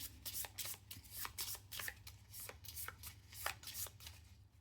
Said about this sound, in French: On mélange les cartes fatigue